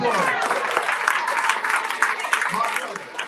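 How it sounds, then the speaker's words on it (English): An audience at a family press conference claps for a man being praised, with dense applause running throughout and a voice speaking over it partway. "Give my man a round of applause"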